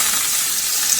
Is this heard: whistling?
no